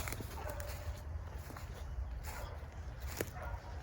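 Two hunting dogs, a mother and her grown son, let out short yips and whimpers among light footsteps and rustling outdoors during a rabbit hunt, with sharp bursts standing out over a steady background.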